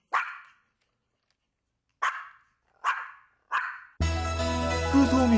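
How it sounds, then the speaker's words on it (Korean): Two pet dogs bark loudly and close by, four sharp separate barks spaced over a few seconds, followed by a dense burst of overlapping noise. "하지만 포리와 얀이 짖기 시작할 때는"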